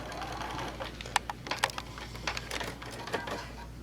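A sewing machine stitches quilt tacks in short, irregular bursts of quiet clicking and whirring, with brief pauses between the quick tacking runs.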